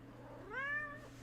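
A small demanding kitty gives a single rising-and-falling meow, close and clear, against a quiet room hum.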